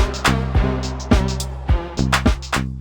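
A looping electronic groove from a Sonicware LOFI-12 XT groovebox with punchy bass hits and a wobbling synth line, pitch modulated by an LFO and pulsing with tremolo, loud and close, no voices.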